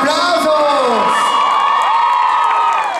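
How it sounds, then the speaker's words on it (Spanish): An audience at a plaza concert cheers and whoops loudly, with shrill shouts and bright applause packed together for about three seconds, close and continuous. "¡El aplauso, señoras y señores!"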